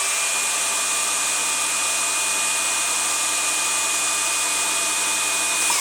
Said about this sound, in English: The saw blade stops extremely quick and it doesn't have any vibration or shudder when you go to turn it on.